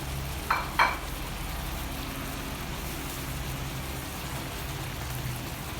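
Pork stir-frying in coconut milk, a steady close crackling sizzle that runs throughout, with two sharp scraping stirs of the utensil near the start.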